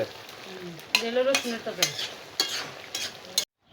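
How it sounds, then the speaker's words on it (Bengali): Garlic tempering spits and sizzles in a hot pan for a Bengali winter vegetable curry. Steady frying hiss runs throughout, with several sharp spoon scrapes and clinks against the pan, and no talk. "এটা কি রসুন দিয়ে বাগার দিছ"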